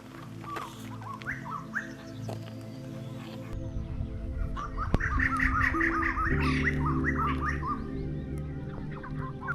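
A flock of white-crested laughingthrushes in forest at Kotabagh near Corbett gives loud, rising chattering calls in bursts, with a steady low hum underneath.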